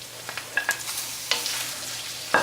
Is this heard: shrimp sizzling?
yes